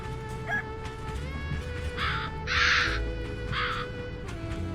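Crows caw in the video game A Hat in Time, giving three harsh, close calls in quick succession over a steady musical background.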